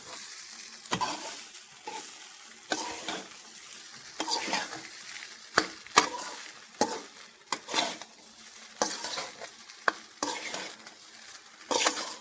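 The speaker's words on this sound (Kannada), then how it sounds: "ಆಲ್ಮೋಸ್ಟ್ ಮಿಕ್ಸಿಂಗ್ ಆಯ್ತು ಇನ್ನು ಸ್ವಲ್ಪ ಮಿಕ್ಸಿಂಗ್ ಮಾಡಿಬಿಡೋಣ" Egg fried rice is stirred and tossed in a sizzling pan, with repeated scraping strokes of a utensil against the metal over a continuous soft frying hiss.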